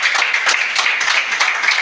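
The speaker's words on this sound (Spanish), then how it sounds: "Denle un aplauso a nuestro Señor Jesucristo" A church congregation applauding: dense, steady clapping from many hands throughout a short stretch, close and fairly loud, with no clear speech over it.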